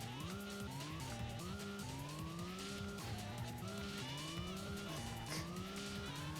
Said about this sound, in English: The engine noise is pretty good as well.